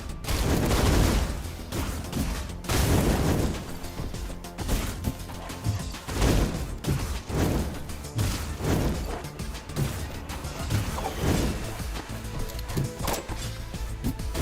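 Enemy gunfire in a video game, loud repeated bursts of shots with crashing impacts that go on throughout, dense and close with no talking.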